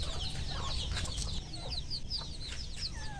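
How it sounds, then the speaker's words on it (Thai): Many chickens cluck together in a farmyard in the evening, gathered and waiting to be fed; overlapping chatter and calls continue steadily over a low background rumble. "โอเคตอนนี้ก็น้องไก่มารอกันเพียบแล้วครับ"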